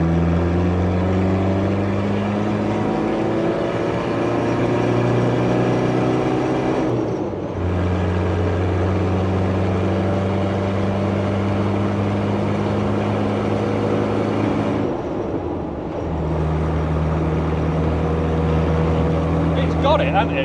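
A VNT 300 Tdi diesel engine in a Land Rover Defender pulls hard at full throttle uphill, a loud steady drone with strong low harmonics, broken by two brief dips as gears change, with faint talk inside the cab.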